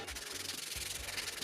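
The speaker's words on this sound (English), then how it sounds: "Put a little edge on that with the sander." An electric sander grinds steadily along the edge of a piece of wood, a close, continuous abrasive rasp with a faint rhythmic pulse, no voices.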